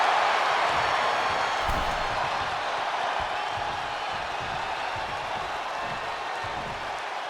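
Arena crowd in a wrestling video game roars and applauds in a steady, dense wash of cheering that holds at a constant loud level, with a few faint thumps underneath.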